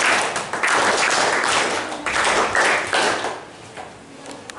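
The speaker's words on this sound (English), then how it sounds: "Give a thunder clap for her." A school audience gives a loud, sustained round of applause for a Class IX student after her storytelling, dense clapping that swells, holds steady and then tapers off near the end.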